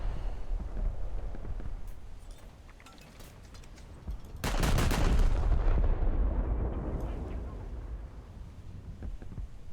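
Naval guns on a French warship in the War Thunder game boom in a loud heavy blast midway, rolling out over a murky background of engine and wind rumble, with a voice faintly present.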